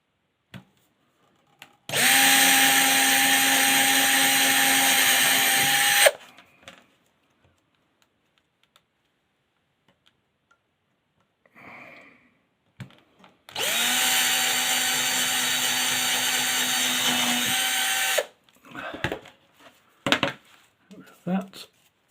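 A power drill boring holes into an old fairground bingo shutter board, two sustained loud whirring runs of about four seconds each separated by quiet handling clicks, with a person speaking in the gaps.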